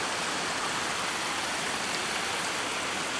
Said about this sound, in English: River's flowing good.